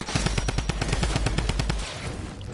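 Rapid bursts of automatic gunfire in a first-person shooter video game, a fast rhythmic string of shots for nearly two seconds, loud and close, then fading into quieter game ambience.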